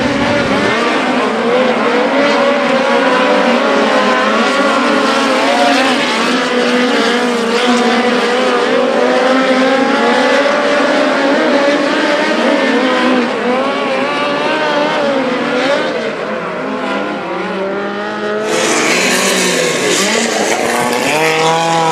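Several sprint cars roar around the track during hot laps at the BC39, engines screaming and rising and falling in pitch as they pass, loud and continuous.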